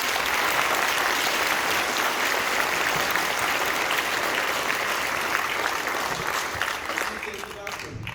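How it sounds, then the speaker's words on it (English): Audience at a high school end-of-year concert band performance applauding the soloists, a dense sustained wash of many hands clapping that holds steady and then begins to fade near the end. "Let's give them another round of applause."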